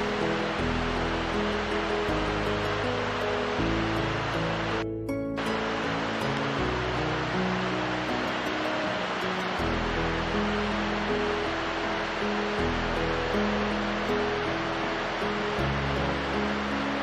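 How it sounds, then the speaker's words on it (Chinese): Babbling stream water in an autumn countryside landscape, a steady broadband rush of flowing water that continues for the whole stretch, with a low irregular rumble underneath and a brief dropout midway. "溪水潺潺。"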